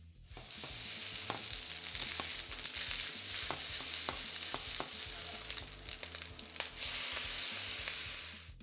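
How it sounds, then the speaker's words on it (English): Rice is stir-fried in a hot wok with a steady loud sizzle, while a spatula or ladle scrapes and clacks against the metal in irregular strokes, with no voices. "into the wok goes the rice, and I'll give it a good stir fry to get it nice and hot"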